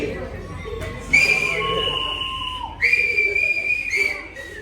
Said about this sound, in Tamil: விசில் டெஸ்ட் பண்ணுவோம்.